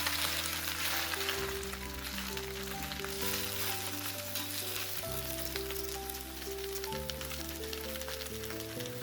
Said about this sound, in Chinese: 然后迅速将油麦菜放入锅中，